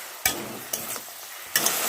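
Fried prawns get stirred into vegetables in a hot pan, with three sharp scraping strokes of a spatula over a steady close sizzle.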